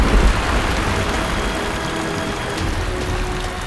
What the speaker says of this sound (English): Little by little, they grow into massive thunderclouds until they burst in a torrent of rain.